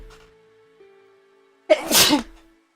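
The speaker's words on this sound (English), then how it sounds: "Oh jeez, I'm gonna sneeze." A single sharp human sneeze bursts out loud and close after a quiet stretch with a faint low tone, then fades quickly into silence.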